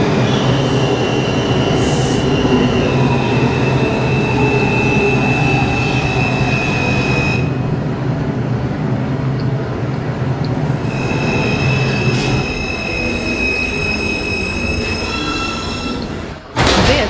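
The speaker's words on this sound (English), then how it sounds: "This is a Manhattan-bound 5 train." A Manhattan-bound NYC subway R142 5 train runs along the IRT line, with a loud steady rumble, sustained wheel squeal and tonal motor whine that shift partway through, ending in an abrupt change.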